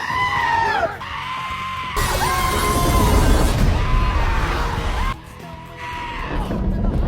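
A goat scream sound effect blares loudly in repeated long, wavering bleating shrieks that rise and fall, with brief breaks between the cries.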